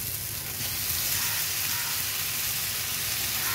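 Boiled taro flowers with shrimp frying in hot oil give off a steady, loud sizzle, an even crackling hiss that continues without pause.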